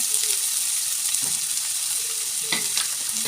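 Chopped onions and green chillies fry in a pan for a kotthu parotta, giving a steady close sizzle, with a few soft spoon scrapes breaking through.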